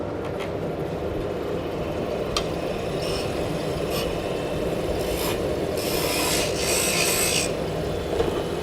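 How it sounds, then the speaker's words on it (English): A lathe tool being sharpened on a CBN grinding wheel gives a steady abrasive rasp over a constant motor hum, with brief brighter hissing bursts as the tool presses into the wheel. "So I use CBN wheels to sharpen."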